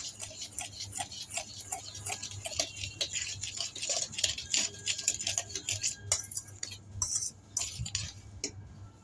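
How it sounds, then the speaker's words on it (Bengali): A spoon or whisk stirs a powdered sugar mixture in a bowl for cake batter, producing a steady run of close, light clinks and scrapes against the bowl with irregular rhythm. "এবার এটাকে ভালো করে মেশাবো"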